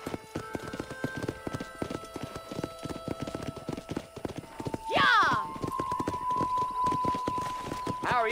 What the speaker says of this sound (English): Control that horse, will you?